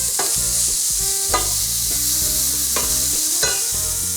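Melted butter hits a hot pan during preparation of an Armenian Vaspurakan dish with lentils, giving a steady bright sizzle with a few sharp stirring clatters spaced across it.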